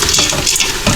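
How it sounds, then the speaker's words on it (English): A spoon stirs chicken noodle soup with vegetables and meat inside a pressure cooker pot, giving a brief, steady scraping and clinking that sounds close and fairly loud. "Stir it up."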